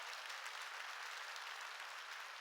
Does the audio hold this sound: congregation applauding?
yes